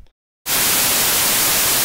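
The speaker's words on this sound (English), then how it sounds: "white noise is an audio signal that's generated by throwing out random values" Loud, steady broadband hiss of white noise, bursting in abruptly after a brief near-silent gap and continuing without variation to the end.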